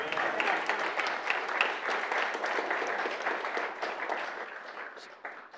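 Keynote audience at a serverless technology conference in New York applauding, a dense steady wash of many hands clapping that holds for several seconds and then thins out toward the end.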